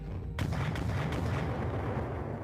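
Gunshots fired at a towering Imperium Titan war machine in a video game: a sudden loud report, then a few more shots in quick succession that blur into a dense, booming battle roar.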